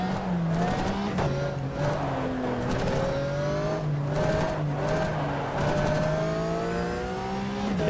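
Race car on honour laps in the game GTR 2 during the Pan Euro RS 2004 Rookie Cup, engine revving steadily with pitch rising and falling through gear changes, loud and continuous.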